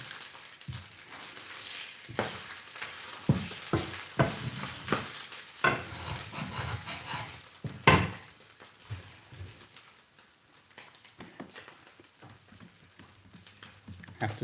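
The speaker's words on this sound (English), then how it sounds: "little flip to get the skin crispy" Carp fillet skin frying in a pan, a soft sizzle broken by clattering scrapes and taps as the fillet is stirred and flipped, with brief quiet talk.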